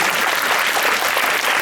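An audience claps loudly and steadily after a short stage play at a theatre festival, a thick continuous roar of many hands without pauses or voices.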